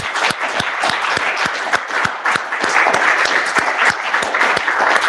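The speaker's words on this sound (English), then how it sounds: "Let's give a big round of applause for a very nice conference." Sustained applause from a conference audience, a dense steady patter of clapping that swells slightly and continues throughout.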